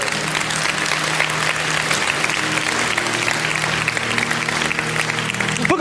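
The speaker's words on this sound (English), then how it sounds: "Anybody want to clap right now?" A church congregation bursts into sustained applause with some cheering, a dense, steady wash of clapping that fills the room for several seconds with no talk over it.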